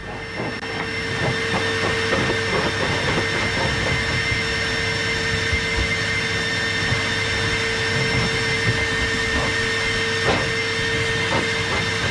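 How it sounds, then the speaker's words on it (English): An Evolution R15 shop vacuum in blow mode gives a loud, steady motor roar with a constant high whine and airy rush, running unbroken for the whole stretch. "we'll just give it a little blow, put the vacuum hose in on the blow function"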